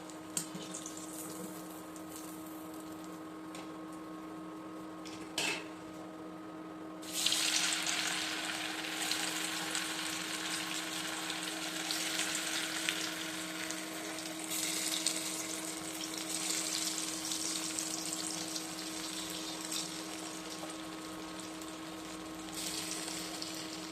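Fish frying crisp in a pan: a low, quiet hiss at first, then a sudden loud, dense sizzle that continues steadily up close, with a faint hum in the background.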